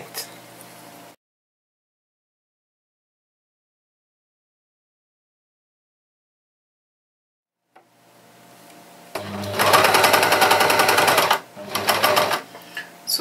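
A sewing machine stitching dress fabric, a loud fast whirring burst of needle strokes near the end after a long silence, with brief quieter sounds at the start.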